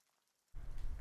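Rain from the Shadowverse story quests sets in abruptly after half a second of silence as a steady, soft hiss of falling drops.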